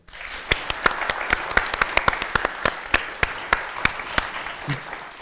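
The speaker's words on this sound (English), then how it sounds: "can you clap now?" An audience claps in a loose, steady rhythm of distinct individual claps, moderately close and lively, fading slightly near the end.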